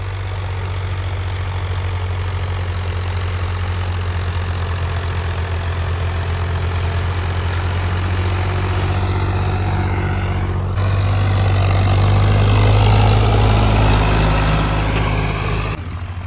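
A new Swaraj 855 tractor engine runs with a steady, low diesel drone throughout, swelling louder about two-thirds of the way through, with no voices.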